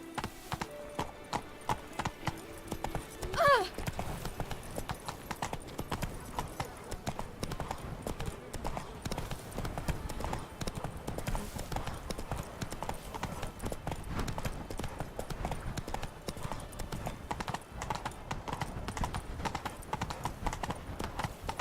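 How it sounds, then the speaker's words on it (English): Steady horse hooves clip-clop throughout at a trotting rhythm in The Witcher 3: Wild Hunt, fairly loud and close, with a brief louder burst early on and faint voices in the background. "Whoa there, Roach. That's it, Roach"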